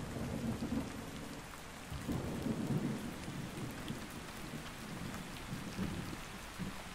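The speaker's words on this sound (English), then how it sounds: "I don't like the thunder." Steady rain patters with low rolling thunder in a night storm in the survival game Ark Ascended, a continuous hissing downpour with rumbles swelling through it, no voices.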